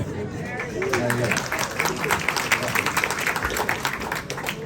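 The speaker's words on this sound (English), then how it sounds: "They're clapping absolutely everything today." Applause from a concert audience at a jazz-age performance, steady dense clapping filling the room for several seconds.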